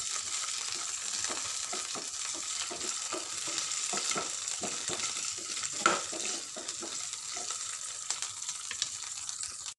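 Halved green chillies fry in a pan, giving a steady bright sizzle throughout, broken by repeated scraping stirs and a few louder clinks against the pan.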